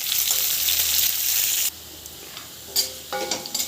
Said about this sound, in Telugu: కొంచెం కరివేపాకు, అట్లాగే పచ్చిమిరపకాయలు, ఉల్లిగడ్డ ఇవైతే వేగనివ్వాలి, కొంచెం ఫ్రై కానివ్వాలి